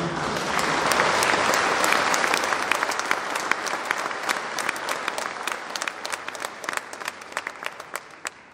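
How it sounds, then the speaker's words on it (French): Sustained applause from party activists at a congress hall, a dense wash of many clapping hands that holds steady, then thins slightly with sharper individual claps standing out toward the end. "je voudrais que vous acclamiez encore"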